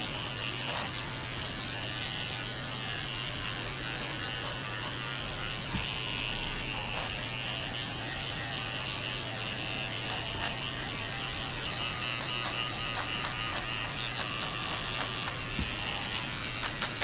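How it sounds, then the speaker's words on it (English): Electric dog clippers fitted with a 40 blade shave the hair from inside a poodle's ears, a steady close-up motor buzz with a faint mechanical rattle running unbroken throughout. "I'm shaving out all the hair from inside his ears so I can see what I'm doing when I clean them out. I'm using a 40 blade"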